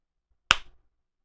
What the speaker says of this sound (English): Now, I am gonna clap here.